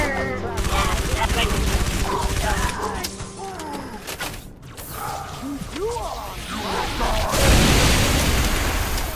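Grenade blast and rapid gunfire in the video game Halo 3 ODST, a dense continuous battle din with bursts of shots and a late roaring explosion.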